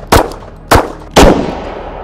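Three sharp, loud .357 SIG 125-grain full metal jacket flat-nose pistol shots strike Level II soft body armor, spaced about half a second apart, each a crisp close crack with a short decaying tail.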